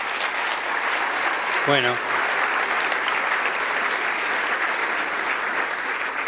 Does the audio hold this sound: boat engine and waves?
no